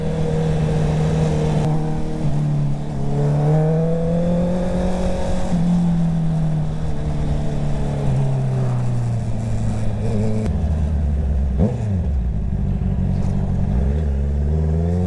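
A motorcycle engine drones steadily and close, its pitch rising and falling as the throttle opens and eases off, with a deep rumble throughout.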